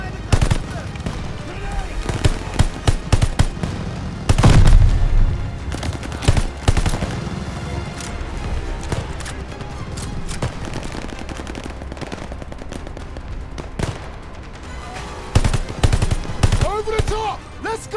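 Machine gun fire from the WWII shooter Call of Duty: Vanguard during the Merville mission, rapid bursts and single shots crackling almost continuously and loudly, with shouted voices and battle noise mixed in.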